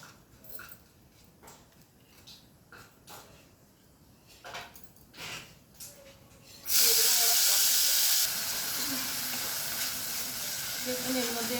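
Bay leaf, chilli and cumin hitting hot oil in a pan, sputtering briefly at first and then bursting into a loud, steady hiss and sizzle that continues to the end, with faint talk in the background early on.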